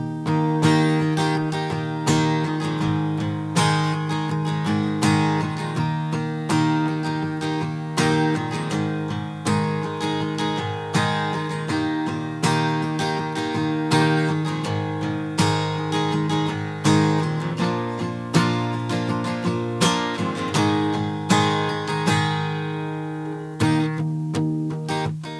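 Acoustic guitar strumming the chorus of a song, a steady rhythmic chord pattern played close and bright with no singing or talk.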